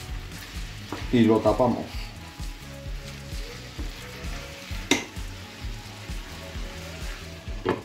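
Garlic and parsley sizzle loudly in hot oil in a pan, a burst of frying rising as they go in and settling into a steady crackle, with scraping stir sounds, a sharp clack near the end, and a brief spoken line.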